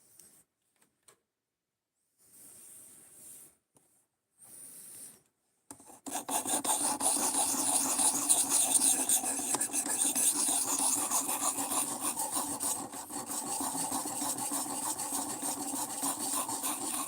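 A file or sharpener rasping along a knife edge, first in a few short quiet strokes separated by pauses, then a long continuous scraping that runs steadily and close.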